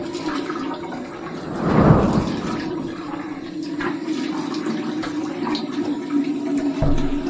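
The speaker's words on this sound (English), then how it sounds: "we're going to go ahead and finish up with my cold water rinse." Cold water runs steadily from a tap for a rinse after a wet shave, a close, continuous rushing with a slight surge near the start.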